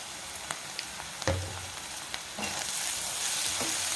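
Soaked moong dal fries in a pan with salt and turmeric, giving a steady close sizzle that grows louder partway through, broken by a few soft knocks of stirring, with no talking.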